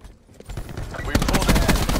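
Rapid SMG fire in Black Ops 4, a dense burst of shots starting partway through and continuing loud and close to the end, with game voice chatter underneath.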